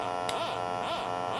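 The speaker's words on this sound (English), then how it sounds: "sine wave." A CircuitPython LFO synth produces a steady electronic tone with a rhythmic wobbling sweep repeating about twice a second, continuous and alone.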